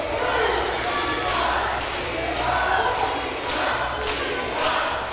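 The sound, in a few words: wrestling crowd cheering in arena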